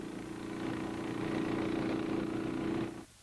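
Engine-driven blower running steadily to force CS gas into a sealed tunnel, a continuous low droning hum for about three seconds that cuts off abruptly near the end.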